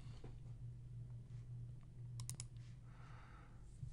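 Soft, quick clicks of a computer mouse, a brief cluster near the middle, over a constant low hum in a quiet room with no voices.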